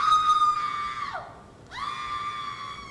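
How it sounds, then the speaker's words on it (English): A loud, sustained scream from a television commercial, a high held tone that dips and breaks off briefly, then resumes at the same pitch, alone without talk. "Scream!"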